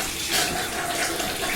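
Strong alkaline Kangen water at pH 11.5 splashes from a tap onto a clean cloth, a brief, close, steady hiss of running water with no talking.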